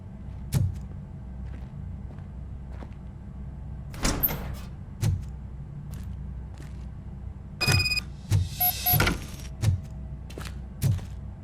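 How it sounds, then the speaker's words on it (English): A door opening in the video game Robocop: Rogue City, with a series of clunks, a mechanical whirring slide and heavy thumping footsteps spaced through a quiet background. "Now let me get that door open for you."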